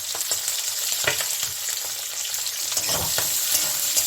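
Onions fry in a pan for an egg and okra dish, a bright, steady sizzle with light crackles and a few soft scraping knocks, close up and without any talking.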